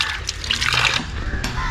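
Water runs from a tap at the Bajrabarahi Temple in a short burst of near, splashing flow.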